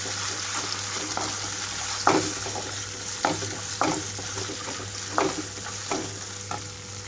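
Ginger-garlic paste fries in a pan alongside other ingredients, a steady sizzle broken by repeated scraping strokes from a spatula every second or so.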